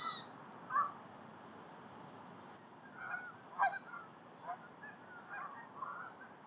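Canada geese honk at Dow's Lake in Ottawa during fall migration, a flock resting before flying south, with scattered faint calls and a few louder honks rising over a steady outdoor hum.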